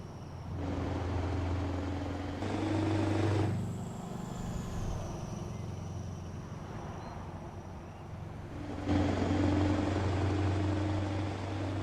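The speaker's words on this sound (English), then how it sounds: "Got the retarder on." A truck's retarder braking in Euro Truck Simulator 2 produces a low engine-brake drone with a steady hum that rises in bursts and eases off, alongside a faint whistling tone, all in a continuous simulated cab ambience.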